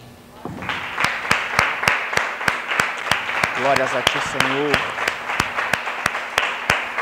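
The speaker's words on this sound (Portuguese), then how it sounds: "Vamos ficar de pé e vamos aplaudir a Jesus." A church congregation claps steadily in a rhythmic beat while a preacher speaks and sings over it, the sharp claps close and even throughout.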